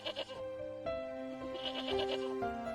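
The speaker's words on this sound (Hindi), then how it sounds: "कुछ देर के बाद उसे बकरी की आवाज़ सुनाई देती है।" A goat bleats in a cartoon farm story, several wavering cries in a row, fairly close and clear over a soft background, with no talking.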